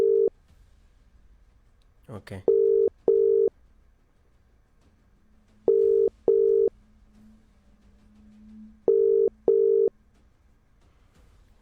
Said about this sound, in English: Let me try to call him now if he is listening to me.